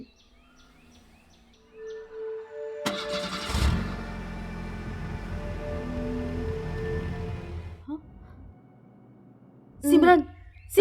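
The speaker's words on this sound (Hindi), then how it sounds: "गाड़ी स्टार्ट होए के आवाज आवता" A car engine cranks and catches, then idles with a steady hum before cutting off, heard at moderate distance with some talk and a sharp noise near the end.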